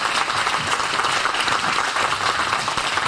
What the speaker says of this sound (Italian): e l'applauso lo testimonia